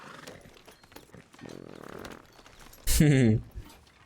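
Horse sounds in Red Dead Redemption 2: soft hoof and movement noises, then a loud, brief whinny-like snort with tonal bursts, amid quiet game voices.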